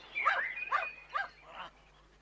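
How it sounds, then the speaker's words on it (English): A dog barks and yips four times in quick succession, close and fairly loud, each bark short and sharp before the sound drops away. "But it was Mr. Goon who was to clear off, with Buster barking all the way"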